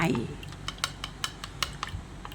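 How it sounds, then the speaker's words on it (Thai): Eggs beaten with water in a bowl for a Thai steamed egg with minced pork, a utensil clicking and tapping rapidly against the bowl in close, brisk strokes. "ก่อนอื่นนะคะเราก็ตีไข่ นี้นะคะ ให้ละเอียดก่อนเลยนะคะ"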